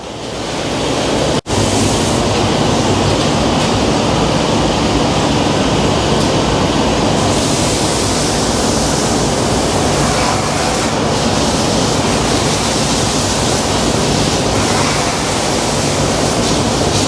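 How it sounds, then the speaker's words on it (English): Extra milk is dumped out in a new calf barn, giving a loud, continuous rushing pour that runs steadily close to the microphone, briefly interrupted near the start. "So we start off by dumping all the extra milk out."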